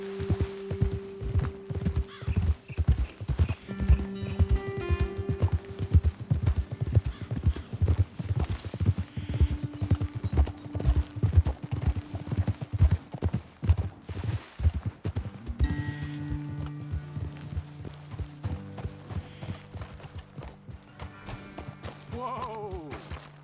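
Horses' hooves clip-clop steadily on a trail in the video game Red Dead Redemption 2, a close rhythmic walking beat under soft music, ending with a horse's whinny as the riders stop.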